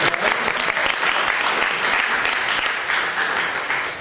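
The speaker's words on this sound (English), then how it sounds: "I think that deserves applause too." An audience at a tenant meeting applauds, a sustained round of clapping from many hands that holds steady and then tapers slightly.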